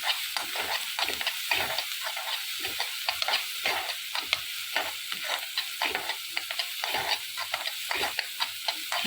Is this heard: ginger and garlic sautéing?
yes